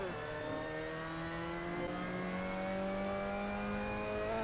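Mazda MX-5 Cup car in Assetto Corsa at Suzuka, engine revving and climbing in pitch under hard acceleration, steady and fairly quiet, with no voices over it.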